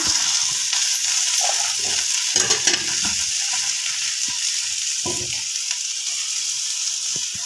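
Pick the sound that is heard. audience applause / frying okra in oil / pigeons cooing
frying okra in oil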